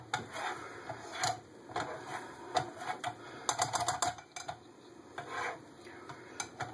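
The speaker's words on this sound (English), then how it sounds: "I'm just trying to keep these eggs moving so they don't burn on the bottom of my pan here." Eggs stirred in an 8-inch REI frypan over a low flame: repeated quick scraping and tapping strokes of a utensil against the pan in an irregular rhythm, close and fairly quiet.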